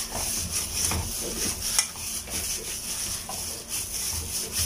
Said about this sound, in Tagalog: I-mix maigi para maihalo yung lasa